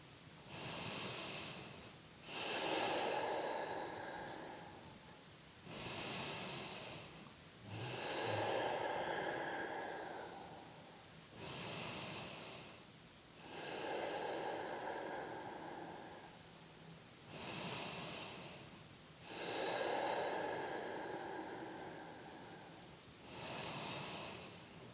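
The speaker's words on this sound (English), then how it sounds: "you just breathe here for 5 more breaths" Slow, deep breaths during a seated yoga butterfly pose, long airy inhales and exhales alternating in an even rhythm about every two to three seconds, close and alone.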